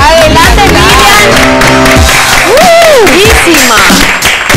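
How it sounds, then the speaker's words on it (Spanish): Applause from an audience greeting Miss World Paraguay 2014 at a live event: a loud, dense wash of clapping mixed with cheering and rising, whooping voices over roughly four and a half seconds. "pido un fuerte aplauso por favor, chicos"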